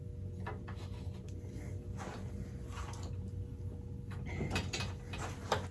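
Parts of an adjustable rug tufting frame being tightened, quiet mechanical creaks, clicks and scraping rubs spread unevenly over a low room hum, growing busier toward the end.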